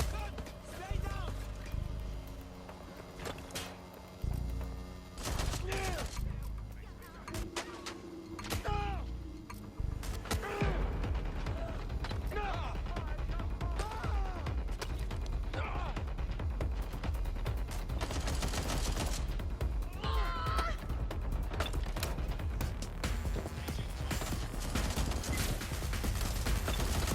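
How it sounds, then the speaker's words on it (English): Scattered gunshots in the video game Watch Dogs Legion, sharp cracks mixed with mechanical clatter and steady background noise, with voices talking throughout. "Shots fired!"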